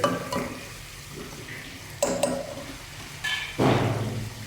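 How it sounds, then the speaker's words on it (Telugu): Onions being stirred in a pot with a spoon, a few scrapes and clinks against the metal, followed by the clatter of a lid set on top, close and fairly quiet. "మంచిగా కలుపుకొని ఒకసారి మూత పెట్టుకోవాలి"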